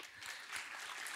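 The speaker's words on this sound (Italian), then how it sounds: "io direi che l'applauso può continuare" Applause from an audience at a music competition evening in Ozieri, a steady wash of clapping held at a moderate, even level throughout.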